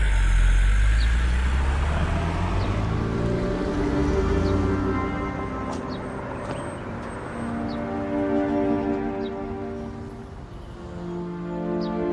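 A car engine rumbling and pulling away, a broad low drone that gradually shifts and recedes over several seconds with no voices.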